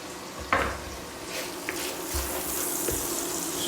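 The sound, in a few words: sliced garlic frying with chorizo in a hot pan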